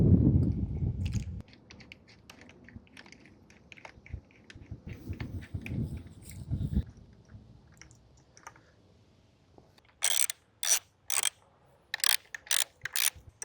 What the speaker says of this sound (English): I'm going to tighten this until it feels like I shouldn't do it anymore